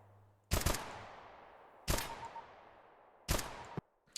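Gunfire in a shooting video game rings out as three loud, separate shots about one and a half seconds apart, each with a long fading echo, and a faint fourth click at the end.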